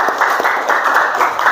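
Applause for a student group in a classroom, brief scattered clapping from several people that comes in loose uneven bursts, near and fairly loud.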